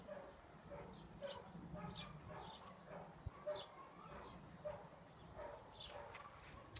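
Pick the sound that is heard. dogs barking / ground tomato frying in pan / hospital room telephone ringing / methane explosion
dogs barking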